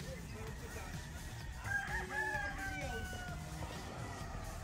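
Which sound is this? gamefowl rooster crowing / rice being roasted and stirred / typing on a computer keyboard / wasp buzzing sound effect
gamefowl rooster crowing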